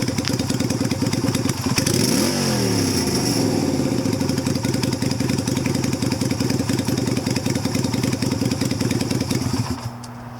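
A Yamaha Virago XV250 motorcycle, set up as a bobber with its stock carburetor, runs at a steady idle with a loud, even, thumping exhaust beat close by; the rhythm wavers briefly near the start and the engine drops off at the very end.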